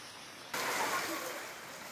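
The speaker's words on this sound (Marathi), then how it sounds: "मुंबईत रात्रीपासून पावसाच्या सरी बरसल्या" Rain shower in Mumbai: a steady hiss of falling rain that suddenly grows louder and denser partway through, then holds as a broad continuous wash.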